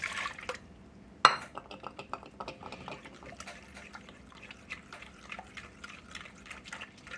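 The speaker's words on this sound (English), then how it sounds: "So let's mix this up in here." A fork stirs hush puppy batter in a bowl, with light clinks and soft wet scraping. One sharp utensil knock rings out near the start, then steady small taps and sloshes continue close by.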